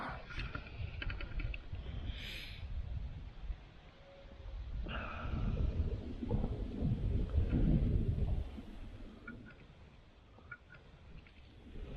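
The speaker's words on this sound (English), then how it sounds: "I think I've got a bit of a thunderstorm coming" Thunder rumbles low and long during rain at a wild camp in Scotland, with a heavy roll swelling in the middle and fading out under a steady patter.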